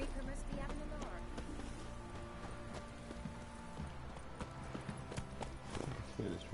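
Steady, rhythmic hoofbeats of Geralt's horse Roach galloping in The Witcher 3 video game, moderately loud, with game ambience and a voice speaking.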